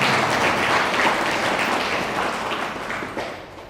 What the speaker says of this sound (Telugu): గట్టిగా చప్పట్లు కొట్టి శివ